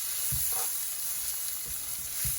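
Onions and spices for fish biryani fry over high gas heat in a pan, a steady bright sizzle with soft thuds from stirring at intervals, close up and with no talking.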